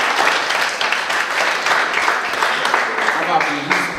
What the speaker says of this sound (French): On va applaudir pour tous les autres.